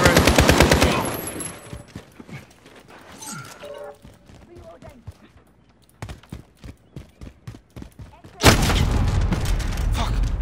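Modern Warfare gunfire rattles in rapid automatic bursts, then slows to a spaced series of sharp single shots before another loud dense burst, all close and punchy with no speech.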